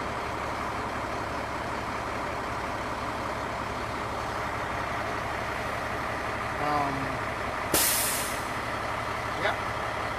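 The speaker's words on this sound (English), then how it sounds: "That means your truck's in pump gear and the pump's turning." A North Carolina fire truck runs steadily with its pump engaged in pump gear, a loud continuous engine drone throughout, with a short hiss of air release near the end.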